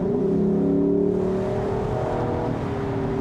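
A 2022 Lexus LC500 convertible's engine revs in sport mode, a loud steady throaty drone holding close throughout with rising and settling pitch.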